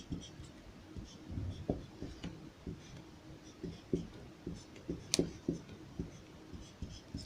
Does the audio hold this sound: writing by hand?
yes